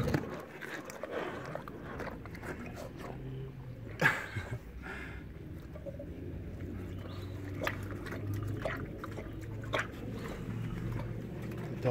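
Dogs whimper faintly at feeding time at an animal facility, with soft whines mixed with scattered wet chewing and clattering noises, all fairly quiet and distant.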